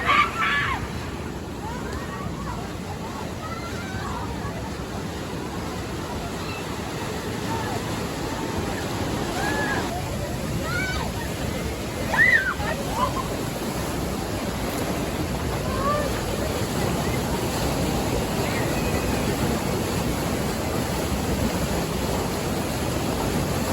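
Rushing water on the Disaster Canyon river rapids ride at Elitch Gardens, a steady broadband wash of churning water with heavy wind buffeting on the microphone and faint distant voices.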